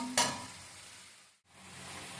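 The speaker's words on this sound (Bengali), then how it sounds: "হালকা একটু তেলের পরে ভেজে নিলাম।" Potatoes and fenugreek greens fry in a little oil, a soft steady sizzle with a brief louder burst near the start and a momentary dip before the frying hiss resumes.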